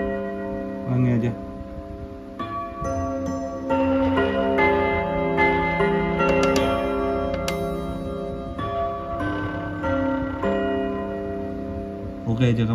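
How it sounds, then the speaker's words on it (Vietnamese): An antique clock strikes a series of resonant bell-like chimes, loud and close, each tone ringing out and decaying over a sustained harmonic hum, with a faint voice in the background. "Chuông thì em sẽ thử cho các bác"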